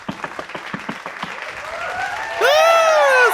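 An audience at a show claps in a quick, uneven patter for over a second before the clapping blurs, and loud gliding tones take over near the end.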